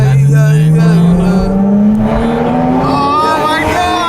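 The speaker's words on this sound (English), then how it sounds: "Dundon headers and Dundon crack pipe. It's full Inconel exhaust." A Porsche GT3 RS Weissach fitted with a full Dundon Inconel exhaust, headers and crack pipe revs up close and loud, its pitch climbing steadily in one long sweep.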